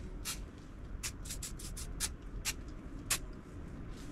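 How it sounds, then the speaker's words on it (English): Lubricant sprayed from an aerosol can onto a kite pump's shaft, valves and bottom seals, a series of short hissing bursts of varying length, some doubled in quick succession, over a quiet room background. "just give that a little bit of a spray on there, and then all over the valves and the seals at the bottom"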